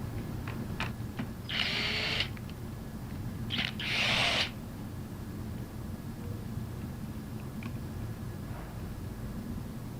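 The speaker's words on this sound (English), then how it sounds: "we're going to use a cordless impact gun" A cordless impact gun removes the bolts on the discharge manifold of a Versamatic bolted metal pump, giving two short buzzing bursts close by, each lasting about a second, over a quiet hum.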